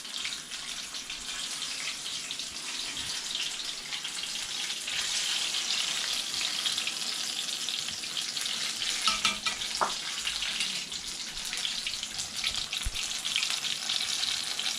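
Sole fish bajji frying in hot oil, a steady, dense sizzling hiss that runs continuously and evenly throughout, close and moderately loud, with a few faint clinks.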